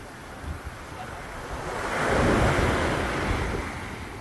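Rough ocean waves break on a resort beach in Liberia, Costa Rica: a steady wash of surf that swells into a louder rushing crash midway, with wind buffeting the microphone.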